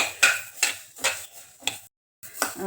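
Coriander seeds dry-roasting in a pan and being stirred, giving a steady run of rattling scrapes about twice a second, with one short pause near the end.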